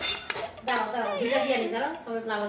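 Metal utensil clanking and scraping against a pan while fried rice with beans and carrots is mixed, heard as a close run of bright clinks and rattles with a brief pause midway and a ringing metallic tone.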